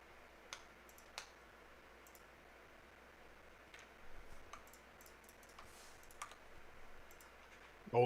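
Sparse, faint clicks of someone typing on a keyboard, scattered across a quiet background with long gaps between the taps.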